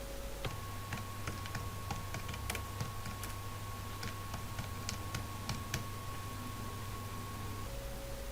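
Clicky keystrokes on a computer keyboard, typing out a short phrase in Tamil-language office work, scattered taps over a steady low hum and faint background hiss.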